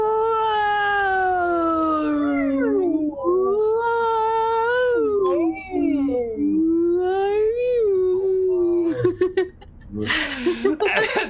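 A voice imitates whale song with long, sliding, wavering cries that rise and fall for several seconds, loud and close, ending in a burst of laughter and noise.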